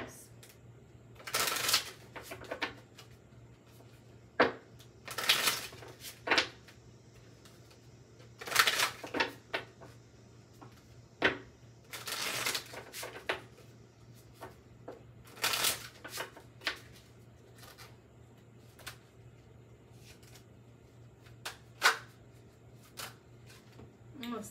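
A deck of tarot cards is shuffled close up in repeated bursts of crisp riffling and flicking, with short pauses between shuffles over a low steady hum.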